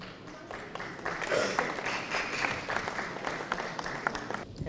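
An audience at a film event in Bangladesh applauds, a sustained crowd of clapping with some louder individual claps and faint crowd murmur beneath, continuing steadily throughout.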